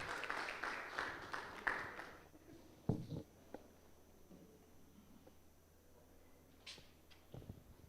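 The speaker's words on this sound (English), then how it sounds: "Please give him a round of applause." Thin, scattered applause from a symposium audience on open science in Sierra Leone, brief and fading after a couple of seconds, followed by quiet room noise, a few knocks and shuffling footsteps.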